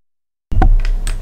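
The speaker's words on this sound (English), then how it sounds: "Do you not like the new death sound from Roblox?" A short video game death sound from Roblox follows half a second of silence: a brief, hollow, clattering burst with a couple of quick percussive blips, lasting under a second.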